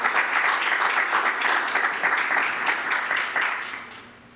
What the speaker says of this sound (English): Would you all receive him with the clapping of your hands at this time?